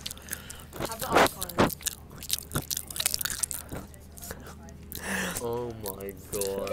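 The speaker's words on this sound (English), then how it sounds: "we're gonna have some more chips" Crunchy chips being eaten close to the mic in an eating session, with sharp bites and chewing crunches scattered through the clip, interspersed with a voice making sounds near the end.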